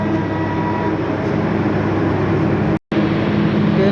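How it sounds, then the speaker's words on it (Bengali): A Trista Express train departs Ullapara station for Dhaka, a steady, loud rumble rolling on without pause, with one abrupt brief gap near the end. "ট্রেনটি এখন 3টা 5 মিনিটে উল্লাপাড়া স্টেশন ছেড়ে যাচ্ছে ঢাকার উদ্দেশ্যে"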